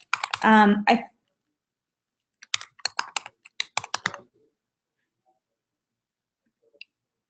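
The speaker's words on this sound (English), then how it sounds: "I just typed in an answer and said send to all" Typing on a computer keyboard during an education webinar: a short burst of voice, then a quick run of light key clicks and a couple of faint taps after a pause.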